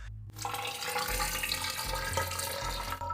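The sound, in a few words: water flowing through a pump tube in an ice-cooled PC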